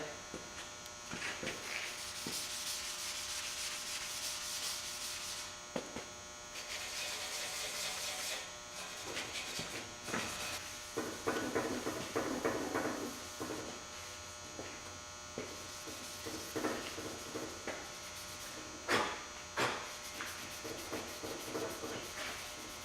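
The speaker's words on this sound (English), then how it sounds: "But I'm going to scuff this before I prime." Abrasive scuffing of a bare metal back rack for a dually pickup before priming, a steady buzzing, whirring drone with repeated rough swipes and bursts, fairly close, continuing for the whole stretch.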